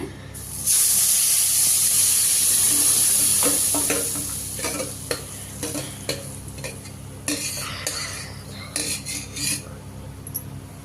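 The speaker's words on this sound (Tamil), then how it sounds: "அதே நெய்யில் வந்து இந்த பப்பாளி போட்டுடலாங்க" Papaya drops into hot ghee with a loud, hissing sizzle that lasts a few seconds and then fades. A spoon then stirs the fruit in the pan with irregular scraping clinks against the metal over a low, steady fry.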